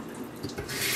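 Tap water runs into a kitchen sink while shrimp are washed, a close, steady splashing stream that grows louder toward the end of the brief moment.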